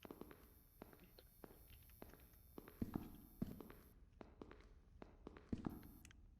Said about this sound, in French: les bruits de pas, ils sont pas coordonnés, ça fait trop peur